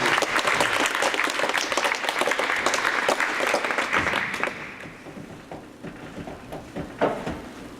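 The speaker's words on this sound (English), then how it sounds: "huge round of applause, everybody" An audience at a comedy hypnosis show in a high school claps loudly and densely for about four seconds, then the applause thins into scattered claps and murmurs.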